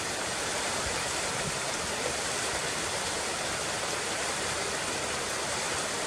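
A waterfall in Harthope valley at Langlee Ford farm, with a second fall directly behind the first, roars in a steady, loud, unbroken wash of water with no voices.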